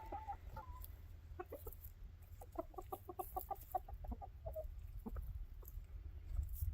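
Chickens, several with fuzzy feathered heads, cluck in a coop, giving short quiet bursts of clucks at close range with no talk.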